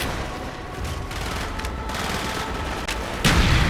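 Mortar fire and gunfire in the video game Call of Duty: Black Ops, a steady rumble of battle with scattered shots and a louder blast near the end.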